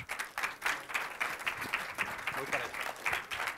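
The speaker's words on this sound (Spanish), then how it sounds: "con un aplauso le damos la bienvenida, por favor" Modest applause from an audience welcoming a speaker, a faint, somewhat distant patter of uneven claps rising and dipping in small bursts.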